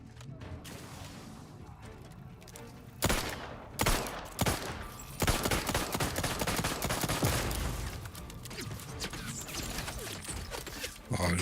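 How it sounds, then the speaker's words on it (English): Repeated bursts of gunfire and rapid automatic fire in the Outer Worlds 2 video game, sharp loud volleys starting a few seconds in and continuing in dense clusters, with mechanical clatter and game sounds beneath. "Who's shooting me?"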